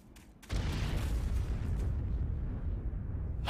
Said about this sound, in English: Why is the explosion behind them?